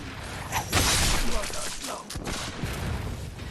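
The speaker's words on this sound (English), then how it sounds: "Someone else is shooting at me" Video game gunfire with tracer rounds aimed at the player: a dense, noisy spray of overlapping shots and mechanical clatter, loud and sustained across the whole stretch, with a sharper burst near the start and faint voice-like traces underneath.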